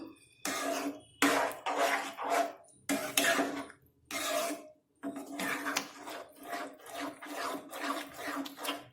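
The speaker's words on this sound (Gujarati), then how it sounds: "બધો જ મસાલા સાથે ખીચડીને મિક્સ કરી લઈશું." Spiced khichdi is stirred in a pot with a spoon, giving repeated close scraping and squelching bursts in an uneven rhythm with short pauses between strokes.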